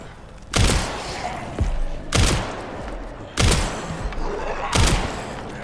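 Four loud, sharp gunshots ring out at roughly even intervals, each with a short echoing tail, fired in the survival horror game Resident Evil Requiem.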